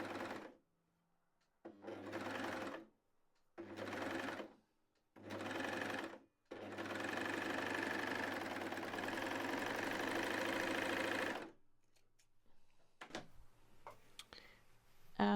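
An overlocker sewing machine runs with maximum stitch length, maximum differential feed and the blade engaged, gathering fabric: four short close bursts of steady whirring with pauses, then one long continuous run, followed by faint handling noises.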